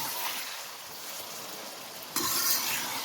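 One kilogram of chicken fries in hot oil in a karahi, a dense close sizzle that holds steady and then flares louder partway through, with no voices.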